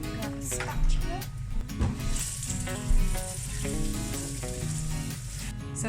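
Onion fries in a pan for a vegan spaghetti bolognese, giving a continuous crackling sizzle with a few louder stirring bumps, under tonal background sound.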